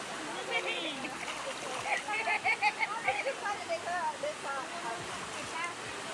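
Cold, clear stream water rushes and splashes steadily close by, with louder lapping surges midway, while someone talks and exclaims over it.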